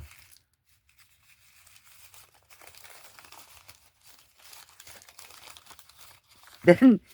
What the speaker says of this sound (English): And this is packing paper. And, of course, I scrunched it all up.